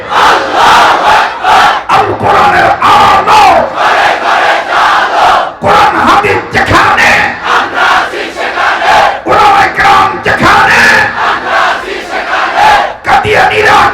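A large crowd at a Bangladeshi religious-political rally chants the takbir in unison, loud massed voices rising in repeated rhythmic waves that fill the whole stretch without pause.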